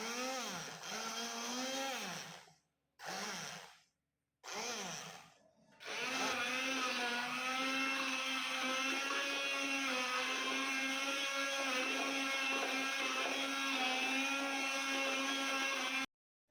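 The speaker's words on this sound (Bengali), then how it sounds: "তাহলে চলো আগে ব্লেন্ডারটা চালিয়ে দিই।" A kitchen blender whipping cream for a fruit cake starts with three short whirring bursts, then runs steadily and loudly for about ten seconds before cutting off.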